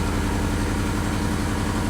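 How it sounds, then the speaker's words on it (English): A Lexus LS400 engine idles steadily just after starting, a low, even rumble with a regular pulse, close and continuous with no talk over it. "Oh, surprisingly, it started up, and it's not revving like crazy anymore."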